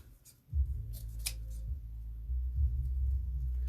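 Scissors snipping through wreath greenery, a few quick crisp cuts close by followed by soft rustling of the foliage, quiet overall with no talk.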